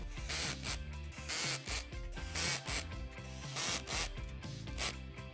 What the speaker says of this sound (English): Now go ahead and tighten up all the hardware.